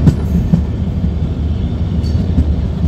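Sairang–Kolkata Express 13126 standing at Goalpara Town station, platform 2, at night: a steady low rumble of the train with faint metallic knocks and clicks, loud and close, no talking.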